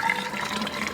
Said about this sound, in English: then I throw boiling hot water in